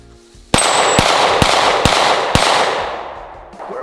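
A CZ P-10C Ported pistol fires five loud, sharp shots in a steady string about half a second apart, each crack trailing into a long echoing tail, with no talking.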